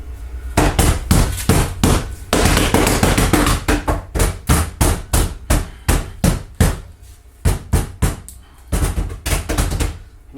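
A hand hammer strikes repeatedly and loudly up close while a large dragon piece is being prepared for CNC cutting, giving a long run of sharp, evenly spaced blows that slow into separate hits near the end.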